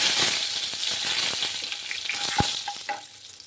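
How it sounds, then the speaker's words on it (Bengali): Whole garam masala, bay leaves and dried red chilies temper in hot oil in a kadai, a loud crackling sizzle with quick popping and sharp clinks from stirring that thin out toward the end. "সেই একই কড়াইতে গোটা গরম মশলা, তেজপাতা, শুকনো লঙ্কা ফোড়ন দিয়ে দিচ্ছি।"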